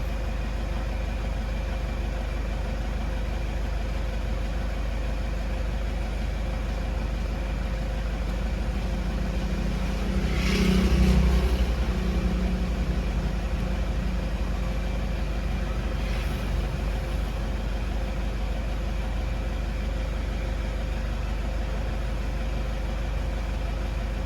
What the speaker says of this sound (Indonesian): ini coba tes gas di tempat tanpa beban